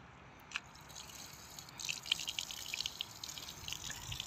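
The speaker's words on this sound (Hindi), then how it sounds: "ये जो नीचे पानी चल रहा है, हाँ इससे" Water from a tap runs steadily while a baby cycle is washed, a low continuous splashing with light dripping patter close by and no talking.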